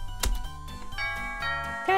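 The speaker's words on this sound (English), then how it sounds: "I pressed the doorbell button on the intercom." An intercom doorbell chime rings in the visual novel game Hoshizora no Memoria, a clear, bright electronic ding-dong with sustained tones, loud and up close.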